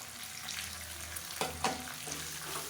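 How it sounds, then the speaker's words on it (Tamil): Garlic, onion, mint and coriander sautéing in a pan make a continuous close sizzle, broken by a couple of soft scrapes and knocks as the mixture is stirred. "இது எல்லாத்தையும் நல்லா வதக்கிக்கலாம்"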